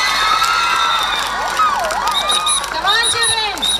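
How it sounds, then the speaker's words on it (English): Children cheer, whoop and shout at a school's annual day function, a loud lively crowd with rising and falling shrieks, and voices talking over the noise. "Let us give a big round of applause."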